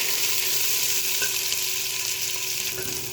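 Onions fry in hot oil with a loud, steady, close sizzle and faint stirring, continuous throughout with no talking.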